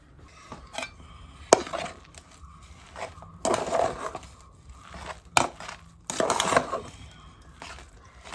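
A ladle handle stirs and kneads a thick mixture in a metal pot, making scattered scraping knocks and clattering bursts that come and go with quiet stretches between them.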